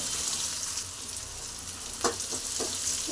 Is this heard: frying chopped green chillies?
yes